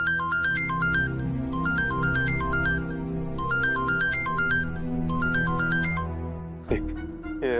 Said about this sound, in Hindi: राघव फोन ही नहीं उठा रहा है।